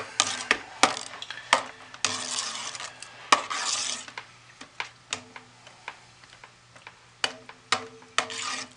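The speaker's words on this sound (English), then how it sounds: "we'll stir it for just a little while" Scented confetti soap mixture is stirred by hand in a container, giving soft, irregular taps, ticks and scrapes that sound close and fairly quiet with small gaps between strokes.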